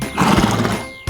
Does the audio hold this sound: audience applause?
no